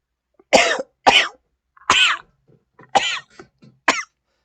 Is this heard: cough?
yes